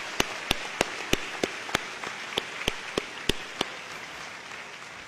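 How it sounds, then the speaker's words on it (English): Applause at the Bolivar High School 2021 commencement, a scattered, moderately distant crowd clapping with a few loud, distinct claps standing out near the front before thinning toward the end. "can we get a round of applause for everyone that I just mentioned?"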